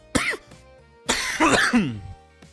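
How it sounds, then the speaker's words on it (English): Two bouts of harsh coughing, a short burst followed by a longer, rougher one that trails off; close and fairly loud, with no talking. "as you may be able to hear by the fact that I am coughing like a motherfucker"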